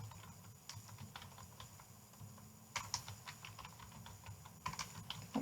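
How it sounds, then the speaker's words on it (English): Typing on a computer keyboard during an accounting problem, in uneven bursts of close, light key taps that pick up in a few quicker flurries, with no speech. "If I can type that."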